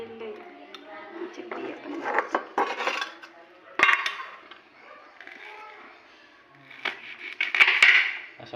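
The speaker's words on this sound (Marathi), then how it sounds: "अशा मस्त त्याच्या बारीक फोडी करून घ्यायच्या" Spiny gourd (kantola) is chopped into small pieces in a village home kitchen, giving irregular knife taps and cutting scrapes on a board, with clattering utensils and a voice talking in the background.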